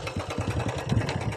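A motorcycle engine runs nearby with quick, rhythmic low pulsing, moderately loud and alone.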